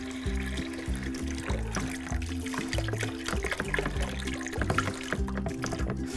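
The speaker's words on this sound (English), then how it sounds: "we're just going to add a little, just about 1 litre of water into here" About a litre of water pours into a bucket for mixing wallpaper paste, a steady splashing trickle up close over a running background of patterned low tones, with no talking.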